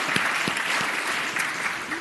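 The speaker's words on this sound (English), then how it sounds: "Go ahead and clap." Applause in the Virginia Senate chamber as people in the gallery clap, a steady wash of hand claps at moderate distance with a few sharper individual claps standing out.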